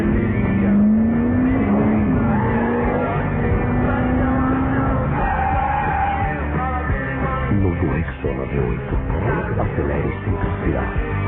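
Cars race through chaotic morning traffic, engines revving with rising pitch, tires squealing and yells mixed in, a dense, loud jumble of motor noise that thins slightly near the end.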